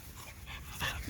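Blue merle tri Olde English Bulldogge puppies play outside, giving brief, faint whimpering yips and panting noises in quiet surroundings.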